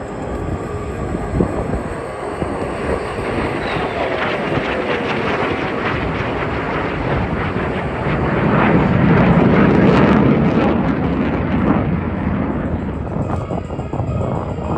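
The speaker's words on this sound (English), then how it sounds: "On the turn, here come the F-35s." F-35 fighter jets flying past at the Australian International Airshow, a loud sustained roaring rumble that swells toward the middle and stays strong throughout.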